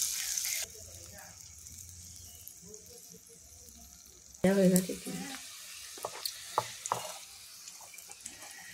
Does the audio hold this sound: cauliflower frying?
yes